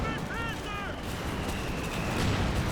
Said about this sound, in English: Sherman tank, fresh one firing away.